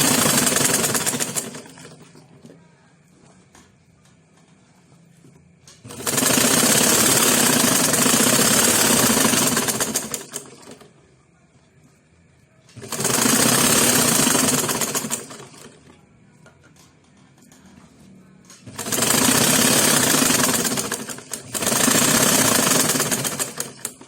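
A sewing machine stitches along the folded edge of a slit in a pencil skirt, running in three long loud bursts of fast stitching with quieter pauses between them.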